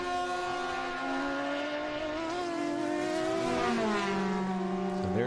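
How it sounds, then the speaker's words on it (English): Race cars at full speed on the Virginia International Raceway circuit during a Trans Am–style event, a loud sustained multi-engine howl with rising and shifting pitches as cars blast past, alone without talk. "Yeah, they really are good sounding race cars."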